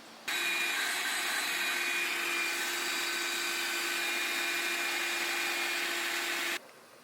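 A vacuum cleaner runs steadily inside a car, switching on with a sudden start, holding a loud, even motor whine for about six seconds, then cutting off abruptly.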